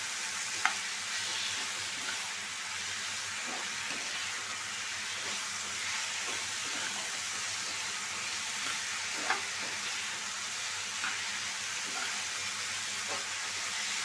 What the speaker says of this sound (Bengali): ভেন্ডিগুলো দেওয়া শেষ, এখন আমি আলুর সাথে ভালো করে মিশিয়ে নিব।